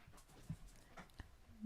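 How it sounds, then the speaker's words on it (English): A dog pants and gives soft whimpers in the background, faint and intermittent, ending in a higher whine, with quiet room noise around it. "That's one dog. She's going crazy."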